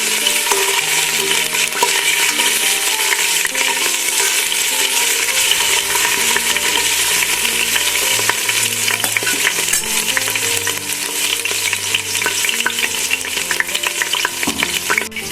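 Curry leaves with ginger-garlic paste sizzle and fry steadily in a pan for mutton masala, with a spoon stirring and scraping throughout; continuous loud frying hiss, no voices.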